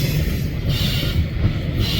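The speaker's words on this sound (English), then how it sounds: "Miles and miles of coal. There is the end and the beginning of the next train." A long coal train rolls past in Fremont, Nebraska, producing a loud, continuous rumble and steady rail roar with hissing wheel noise, close and unbroken throughout.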